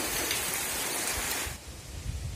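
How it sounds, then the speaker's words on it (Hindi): Heavy rain pours down in a village during a summer storm, with water running off a roof in a dense, steady roaring hiss that drops somewhat quieter near the end. "छत का पानी गिर रहा है, जोरदार बारिश हो रहा है अच्छा खासा।"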